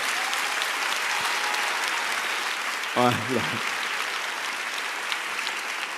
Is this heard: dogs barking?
no